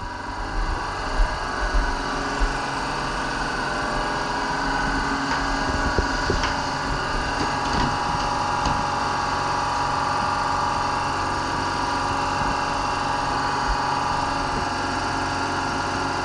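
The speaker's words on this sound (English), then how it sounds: "I'll just wait till the compressor stops." An air compressor runs steadily in a surfboard shaping workshop, a constant mechanical drone with faint knocks and clatters over it, no talk.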